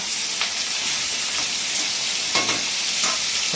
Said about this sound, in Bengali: এই যে মাছ ভাজা